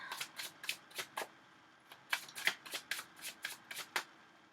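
Tarot cards are shuffled by hand, giving a quick rhythmic run of crisp riffling bursts, close and clear, with faint background quiet between them.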